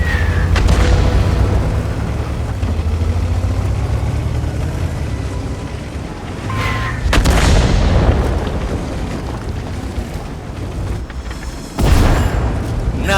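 Deep booming tank cannon blasts from World of Tanks, an Object 907 firing several heavy shots spaced apart over a constant rumbling engine drone.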